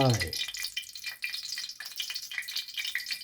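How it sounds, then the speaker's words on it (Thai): Oil heats in a frying pan while cooking a Thai glass noodle salad, giving a steady, faint hissing sizzle with light crackles. "ตั้งกระทะใส่น้ำมันลงไป"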